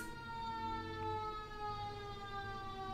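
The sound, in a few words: emergency vehicle sirens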